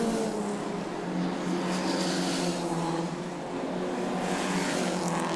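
Historic race cars roar past together on a circuit at a historic racing festival, a steady, sustained engine drone with harmonic whine lasting throughout, moderately distant and continuous.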